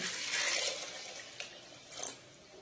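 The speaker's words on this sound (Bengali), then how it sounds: "দিয়ে দেবো জল" Water poured into a pot of masoor dal with seeds, salt and chopped onion, a rushing splashing pour that tapers off, followed by a few small drips and splashes, close and moderately quiet.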